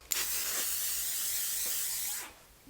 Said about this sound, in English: I get to finish off this masterpiece with that setting spray.